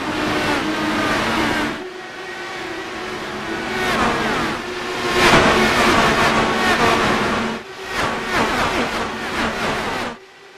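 IndyCar engines in the iRacing video game at Las Vegas Motor Speedway, a loud continuous high-pitched roar that swells and dips with passing cars over about ten seconds.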